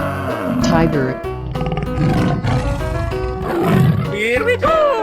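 Tiger in a 3D animal sliding video game roars in several gruff bursts, loud and close, mixed with busy game music and effects.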